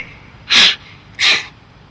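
A deer grunt-snort-sneeze hunting call is blown twice in quick succession, each a short, sharp, breathy hiss about half a second apart, loud and close against a quiet background.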